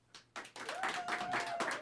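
An audience at a congressional district candidate forum applauds the two debate candidates, scattered claps building into a dense, steady round of applause, moderately distant in a hall.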